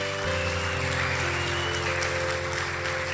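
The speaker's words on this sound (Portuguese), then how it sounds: "Você pode dar um forte aplauso ao Senhor?" A church congregation claps for the Lord, a broad sustained wash of applause from many hands, while a steady held musical tone sounds underneath.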